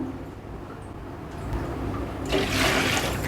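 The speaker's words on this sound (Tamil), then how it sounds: "இப்போ தண்ணி வந்து சேர்த்துடலாம்" Water pours into a pot of rice, starting as a soft trickle and swelling into a louder, splashing gush near the end.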